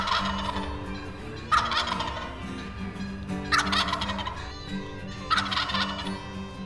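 Wild turkeys gobble loudly in repeated bursts about every two seconds, fairly close while hunters wait on stand, with constant background bird noise and no talking.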